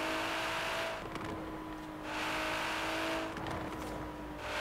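A Nissan GT-R engine roars steadily in Forza Horizon 3 during a drift session, with the revs rising and falling in smooth, repeating waves and no talk over it.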